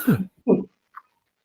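A man coughs or clears his throat twice in short rough bursts, close and fairly loud, followed by a small click and then silence.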